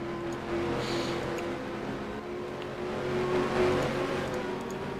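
Race cars run laps of the Russian Grand Prix circuit in a racing video game, a steady droning engine hum that swells slightly as cars pass, continuous and mid-distance with no talk.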